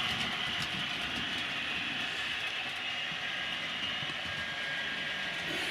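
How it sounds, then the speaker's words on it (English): A model railway HST runs steadily along the track while cleaning its wheels, giving a continuous, even rolling rumble with a faint whir and no pauses throughout. "in theory now this is cleaning the wheels on the HST as she goes along"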